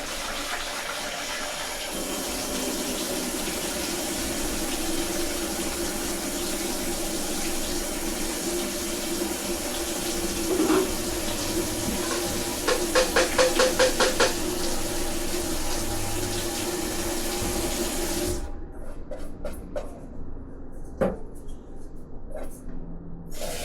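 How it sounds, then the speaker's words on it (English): Running water pours steadily into a pot as rice is rinsed at a kitchen sink, a continuous close rushing flow with brief sloshing, then the stream stops near the end leaving faint handling sounds. "Okay, so I rinse the rice just to make the rice fanatics happy."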